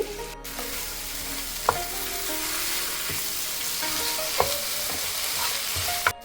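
Masala paste for mutton curry sizzles and fries steadily in a hot pan, with a few sharp scrapes and clinks of a stirring spoon over the continuous crackle.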